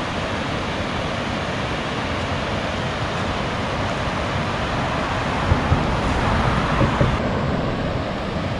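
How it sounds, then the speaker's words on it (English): Water roars at High Falls State Park near Macon, Georgia: a steady, dense broadband rush that holds level throughout with no pauses and no voices. "sounds like a waterfall up this way"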